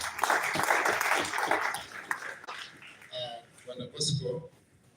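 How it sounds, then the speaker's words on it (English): Clapping from a group at a presentation event in a hotel in Uganda fills the first couple of seconds, dense and steady, then fades out as a few voices and other noises take over. "Another round of applause, please."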